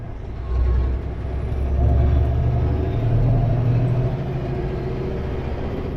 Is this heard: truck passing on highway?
yes